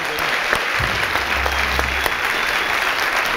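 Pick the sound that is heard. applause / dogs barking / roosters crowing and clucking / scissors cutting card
applause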